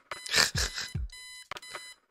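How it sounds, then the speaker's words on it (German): A ringing alarm clock in the point-and-click adventure game Kathy Rain, its harsh, bright electronic tone sounding in repeated bursts with brief gaps, close and loud. "Eileen's obnoxious alarm clock. The noise makes me want to stab myself with something dull."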